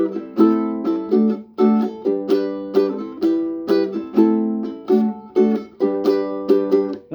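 A ukulele strums the chords of a song in a steady, bright rhythm, each chord attack sharp and then ringing briefly before the next, played close and alone with no voices.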